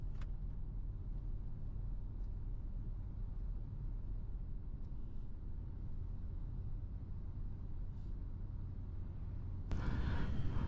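A van drives along a highway in Quebec, giving a steady low road rumble and engine drone throughout, with a louder burst of noise near the end.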